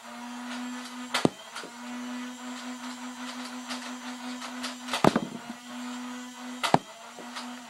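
A Nerf Elite Hail-Fire blaster's motor hums steadily with the trigger pulled halfway, a constant mid-pitched drone broken by three sharp mechanical clicks and clacks, close and alone.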